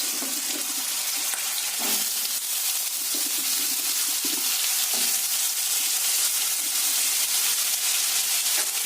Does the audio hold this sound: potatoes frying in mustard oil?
yes